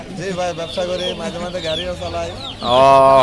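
Desi roosters and hens crowded together at a market give off mixed clucks and crowing, with a louder burst of calls near the end and voices talking around them.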